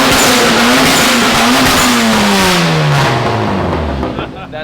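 A VW 1.8T four-cylinder engine swapped into a BMW E36, loud and close, holding a high rev before the pitch slides steadily downward as the revs drop off, fading near the end.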